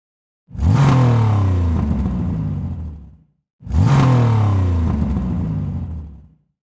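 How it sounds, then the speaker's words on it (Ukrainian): A car engine accelerates twice in succession, each a close, loud rising rev lasting nearly three seconds before cutting off, separated by a short silence. "Відгадали це звук автомобіля."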